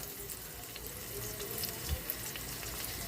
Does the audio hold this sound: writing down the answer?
no